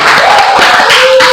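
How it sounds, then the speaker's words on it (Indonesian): Classroom audience clapping for the first-place winner Saskia at a physics teaching session, a loud, dense burst of applause mixed with crowd noise and a sustained tone. "Tepuk tangan buat Saskia"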